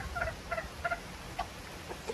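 Chickens out in the open during rain, giving a few short clucking calls in loose bursts at moderate distance over a steady hiss of falling rain.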